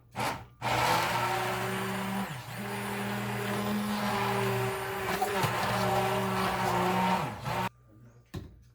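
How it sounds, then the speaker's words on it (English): An immersion blender whirs loudly and steadily through cooked apples, cutting in with an abrupt start and stop and dipping in pitch briefly as it meets the fruit. "I'm going to take the immersion blender after them so I get the consistency we like"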